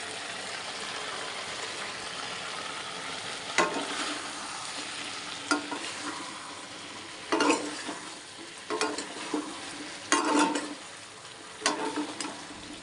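Potato, pumpkin and chickpeas coated in spices fry in a wok for a pumpkin chhakka, giving a steady close sizzle broken by about six louder scraping stirs spaced a second or two apart.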